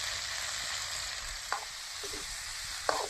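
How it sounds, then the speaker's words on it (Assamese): Pork pieces fry in oil with turmeric and garam masala in a home kitchen, giving a steady soft sizzle with a couple of brief stirring scrapes. "এতিয়া মাংসটো ভাজা হৈ গ'ল"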